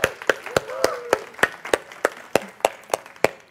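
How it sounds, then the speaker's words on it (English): Slow, evenly spaced claps ring out at a Sunday service gathering for a man named Michael, a dozen or so sharp separate hand claps at a steady rhythm, moderately near with quiet room murmur between them. "Let's give Michael another round of applause."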